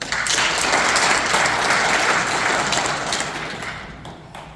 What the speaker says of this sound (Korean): 우리 의장님한테 다시 한번 큰 박수 부탁드리겠습니다